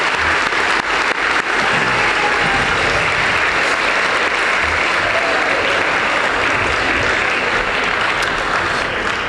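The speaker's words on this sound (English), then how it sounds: "So a big round of applause to all those people I mentioned" Audience applause at a school winter athletic assembly, a loud, sustained wash of clapping from a full hall that continues evenly for the whole stretch.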